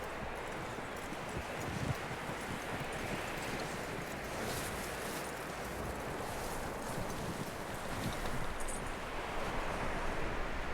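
Horse hooves clip-clop in the video game Red Dead Redemption 2, a muffled, steady trot under a wide wash of wind noise.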